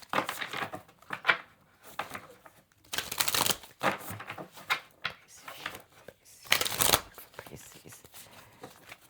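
Tarot cards being shuffled by hand, several quick bursts of riffling and flapping separated by short pauses, close and fairly soft.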